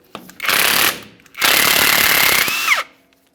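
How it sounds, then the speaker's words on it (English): A powered socket tool with a 15mm socket spins off the mounting nut on a 2015-2020 Ford F-150 front CV axle. Two loud, close, rattling bursts, the second longer, end with a falling whine as the tool winds down. "We'll use a 15mm to remove our mounting nut."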